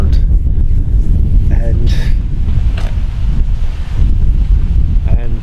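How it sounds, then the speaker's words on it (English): Wind blows steadily across an outdoor archery range, a constant low rumble of gusts buffeting the microphone, with brief speech breaking through over it. "But there is a bit of wind around"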